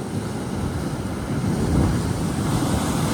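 Big sea waves surge and break into white foam close by, making a steady, loud, rushing roar with gusts of wind buffeting the microphone.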